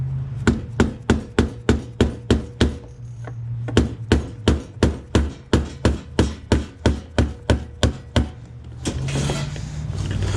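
Repeated tapping on a metal locking ring to turn and tighten it over a new, thick gasket during mobile mechanic work: about two dozen sharp, evenly spaced knocks in two close runs, with a short pause between them, loud and near.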